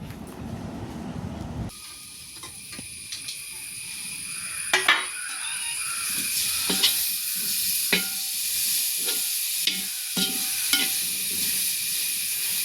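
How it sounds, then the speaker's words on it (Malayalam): Tomatoes with coriander powder, chili powder and masala sauté in a pan for chicken curry, giving a steady low sizzle with occasional sharp scrapes and clinks of a spoon against the pan. "മല്ലിപ്പൊടി, മുളക് പൊടി, മസാല, പിന്നെ തക്കാളി ഇട്ട് ഉടയണ വരെ നല്ലോണം വാട്ടാം"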